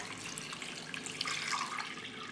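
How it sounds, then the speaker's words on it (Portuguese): Water poured into a pot with chopped ginger, pineapple and mint for tea, a steady close splashing and trickling stream with no talk. "Agora eu vou colocar a água."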